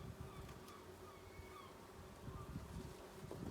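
Honeybees buzz in an open beehive during an inspection where several frames stand nearly empty, a soft steady drone with faint wingbeat hum, heard quietly and without talk.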